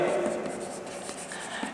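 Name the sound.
writing on a board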